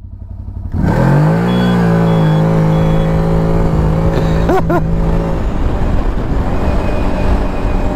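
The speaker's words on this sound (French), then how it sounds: "Le moteur là-dessus, c'est un 1000cc. Ça a 80 chevaux." A CFORCE 1000 Overland off-road vehicle's 1000cc, 80-horsepower engine starts and idles, then revs up sharply a few times before settling into a loud, rough rumble up close.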